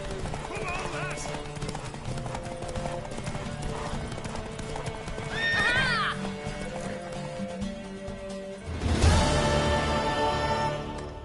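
Hooves clip-clop steadily as a horse runs in a race in the Witcher 3 video game, with a neigh rising around the middle and a louder whinny near the end, all under a voice talking.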